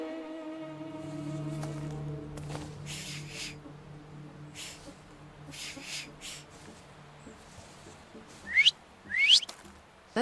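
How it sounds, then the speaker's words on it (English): Whistling from the video game The Thaumaturge, heard as a couple of sharp rising whistle notes near the end, following a stretch of low sustained tones and scattered soft sounds. "So, have you mastered whistling?"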